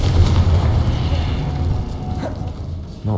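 A Confringo fire spell explodes in the wizarding video game Hogwarts Legacy, a dense low boom that rumbles on through combat, with a fresh thump right at the end.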